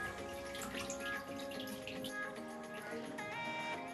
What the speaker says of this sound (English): All right, that nasty yellow, brown, dirty water is draining